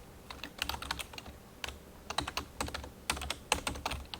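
Fingers typing on a computer keyboard, heard close up as quick bursts of crisp clicks and key taps separated by short pauses, with no talking.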